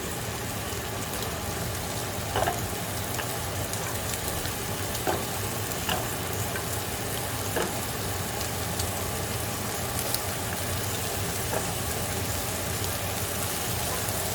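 Carrots fry in a pan for shrimp spaghetti with a loud, steady, rain-like sizzle throughout and a few faint stirring taps, and nobody talks.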